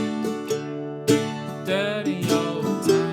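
A mandolin plays the chords and melody of a song, bright plucked strums and picked notes in an uneven, tuneful pattern, close and clear with no voice over it.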